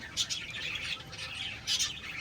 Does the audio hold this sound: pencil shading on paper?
no